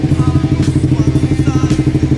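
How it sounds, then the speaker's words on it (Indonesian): A Honda fuel-injected motorcycle engine runs after a stator coil replacement, idling loud and close with an even, rapid thumping pulse and light mechanical clatter. "kalau spoolnya oke biasanya mesinnya nyala nih"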